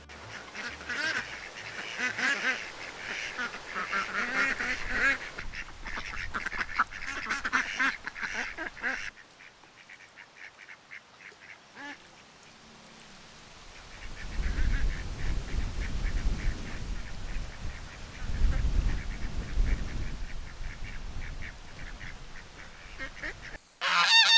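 Geese honk and ducks quack in a busy, chattering flock at a moderate distance, with the calls thinning out briefly before picking up again.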